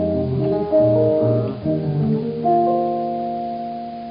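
Fast jazz guitar chord runs with bright, sustained harmonic tones in a steady rhythm, played alone with no voices, ringing notes layered over each other.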